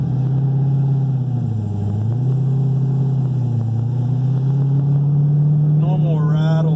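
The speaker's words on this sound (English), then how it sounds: "this exhaust is amazing." A 2010 Corvette Z06 with a newly fitted exhaust idles in a loud, steady, deep drone that rises slightly toward the end, with people talking over it.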